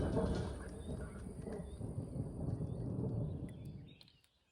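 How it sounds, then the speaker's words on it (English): A long, low rumble of thunder from a thunderstorm over the countryside of the Gers, rolling at moderate distance for several seconds before fading away into quiet. "we certainly get our fair share of thunderstorms, and the latest one had just arrived"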